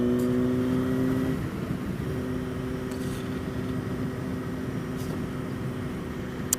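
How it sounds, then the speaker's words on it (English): A 2007 Honda 919 (CB900F Hornet) motorcycle being ridden, its engine droning steadily with a low harmonic hum that drops slightly in pitch after the first second, accompanied by continuous road and wind noise and no talking. "So what I ride is a 2007 Honda 919, officially the CB 900F, and elsewhere in the world it is known as the Hornet 900 Hornet."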